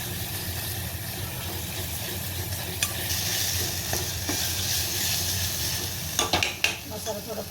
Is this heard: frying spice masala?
yes